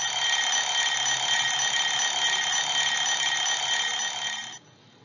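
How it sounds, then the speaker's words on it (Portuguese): An alarm clock rings in a continuous, shrill electronic buzz, loud and steady for several seconds before cutting off abruptly. "Isso é um despertador."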